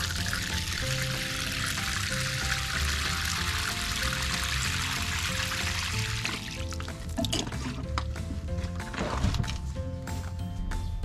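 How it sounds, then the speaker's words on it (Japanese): A planter of pole beans is watered, with water pouring and splashing steadily onto soil and leaves before tapering into trickles and drips near the end, close by, with no speech. "はい、それでは灌水していきたいと思います。"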